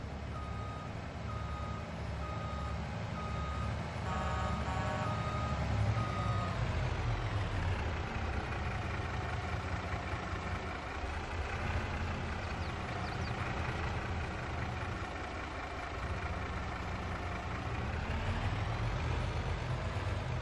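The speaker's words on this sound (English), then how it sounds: "wait for the delivery truck to arrive with all the mulch" A delivery truck in the Farming Simulator video game rolls in and reverses, its steady reversing beeps repeating over a continuous engine drone for the whole stretch, loud and close with no talking.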